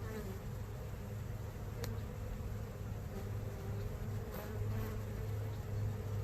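Honeybees swarm around an open hive during an inspection, their steady buzzing close and continuous throughout, with no voices.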